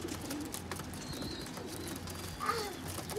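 A slate-brown khatang pigeon coos softly in a Lahore pigeon loft, its low murmur faint against a busy background with a few brief chirps from other birds.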